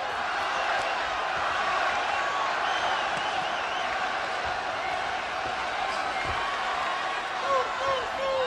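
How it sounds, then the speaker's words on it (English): Boxing arena crowd at a Julio Cesar Chavez vs Ivan Robinson fight, a dense, steady roar of cheering that swells slightly near the end, with a commentator talking over it. "And the crowd comes alive."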